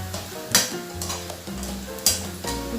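Cauliflower pieces fry in oil as a tea-time snack, a close crackling sizzle under repeated stirring, with two sharp scraping clatters of the spoon against the pan standing out.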